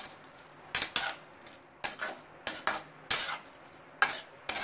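Beetroot with salt and turmeric powder stirred in a pan, a spoon striking and scraping the metal in sharp irregular bursts, about ten clanks separated by quiet pauses, no talking.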